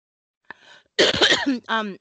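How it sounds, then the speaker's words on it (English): A brief throat-clearing click followed by a harsh, close cough, then a voice starts to speak, during an online library cataloging meeting. "Sorry to cough."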